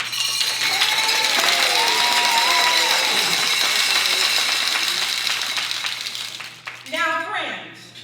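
Audience applause at a graduation ceremony, dense clapping and crowd noise filling the hall, sustained and fairly loud before thinning out, with a tonal hum underneath and a voice briefly rising near the end.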